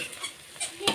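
A spoon scrapes and stirs ground roasted sesame in a frying pan, a brief sequence of soft scratchy strokes with a sharper scrape at the end, close and alone.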